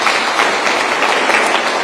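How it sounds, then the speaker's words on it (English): An audience claps steadily at the launch of a diaspora affairs 24-hour call centre, loud, dense applause filling the whole short stretch with no voices on top. "I think we can clap for Balozi and for your various departments"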